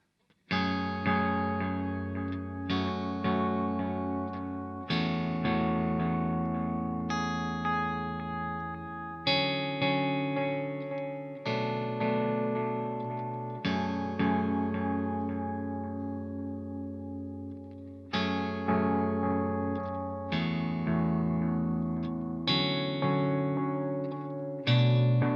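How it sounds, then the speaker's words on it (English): Guitar notes run through a Strymon EC-1 tape echo delay pedal, its repeats set to sound like old worn tape; each chord rings out and decays with a warbling, slightly distorted tail, a steady run of strums and no talking. "the more the repeats are going to sound like that more kind of like old worn tape sort of sound"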